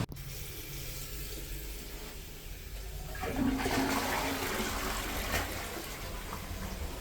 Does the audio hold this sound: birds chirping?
no